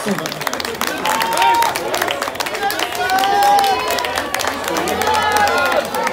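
An audience at a barbecue expo at the Parc Floral applauds the competition winner and participants, a sustained wash of clapping with cheers and crowd babble throughout.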